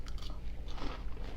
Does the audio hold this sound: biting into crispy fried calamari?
yes